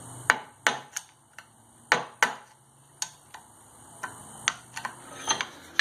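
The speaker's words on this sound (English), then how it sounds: "we're going to try to pop these clips out" Rusted C-clips being pried off a U-joint cap on an 1989 Chevy mud truck axle: sharp scattered metallic clicks and taps, about a dozen, close and fairly quiet.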